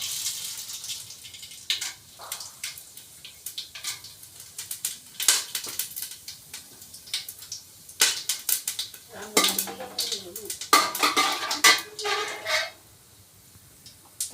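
Whole spices tumble into a pot while tomato rice is being cooked, giving scattered clinks and rattles of metal cookware, with a brief sizzling stretch near the end; no voices.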